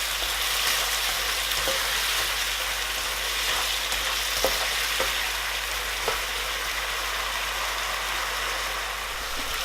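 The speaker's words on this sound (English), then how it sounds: "Now you want to cook this until the sauce starts to reduce a little." Chicken in orange sauce sizzles and bubbles in a hot pan as the sauce reduces, a steady bright hiss with occasional light clicks of stirring.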